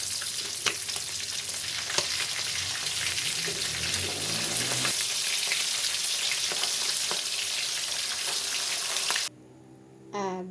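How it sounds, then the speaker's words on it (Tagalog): Fish frying in hot oil in a pan, a loud steady sizzle and crackle with occasional scraping stirs, running continuously before cutting off near the end. "kaya pwede na po natin isalang ang isda"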